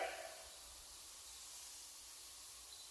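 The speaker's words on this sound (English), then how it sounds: "And I just kind of go spray it" A can of spray paint hisses onto a PS5 console, one short steady burst of airy spray that tapers quickly into a faint, constant hiss.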